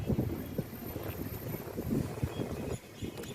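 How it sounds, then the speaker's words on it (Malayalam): Wind blows steadily across the grounds of Tipu's fort in Palakkad, beside the moat that rings it, as a continuous low rumble of buffeting against the microphone with a few stronger gusts and no talking. "ഇവിടെ നല്ല കാറ്റുണ്ട്. പാലക്കാടൻ കാറ്റ്."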